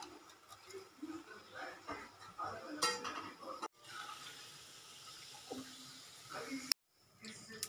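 Basmati rice being washed in water, with sloshing and running water, clinks of a metal vessel, and occasional clatter, close and fairly quiet, ending in a sharp knock.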